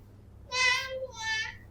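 A voice imitates a cat with two drawn-out meows in quick succession, close and clear against a quiet room.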